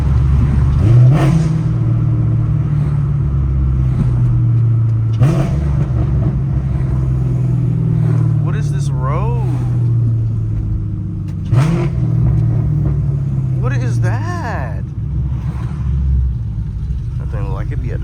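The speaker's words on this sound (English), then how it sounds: "I can do some downshifts though." A cammed Ford Mustang engine blips and drones through several downshifts, giving a loud rumbling rev roughly every five seconds over a steady low cabin hum. The engine noise carries on throughout with no one talking.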